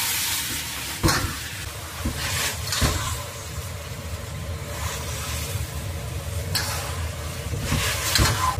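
Sugar caramelizing for a dark sugar colour sizzles and hisses steadily in a wok while a utensil stirs and scrapes through it, with a few louder clacks against the pan, close up.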